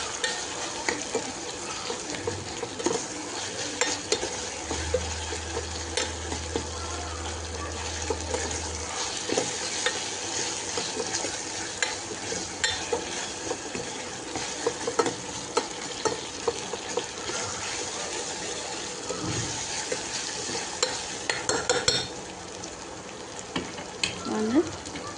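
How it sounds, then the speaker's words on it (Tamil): Tomato masala with salt being stirred and fried in a pan for mutton liver and egg masala, a continuous soft sizzle broken by repeated scraping and clinking stirring strokes, with a brief low hum partway through. "உப்பு போட்டுட்டு நல்லா பரட்டி விடுங்க"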